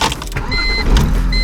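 An old beater pickup truck driving on pavement, a loud close rumble of engine and road noise sustained throughout a brief stretch.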